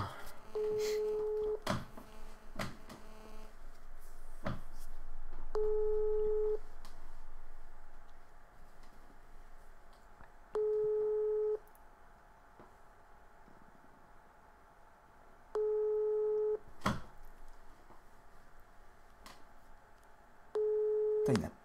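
A phone line rings out on an unanswered call: five evenly spaced tone bursts about five seconds apart, loud and steady, with faint clicks and low background noise between them.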